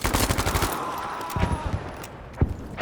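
Gunfire in the Battlefield V Firestorm battle royale game, a loud fast rattle of automatic shots at the start, then scattered single heavy bangs over a rumbling backdrop, no talking.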